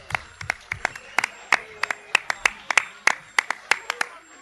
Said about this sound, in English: Worthy, very worthy of that applause.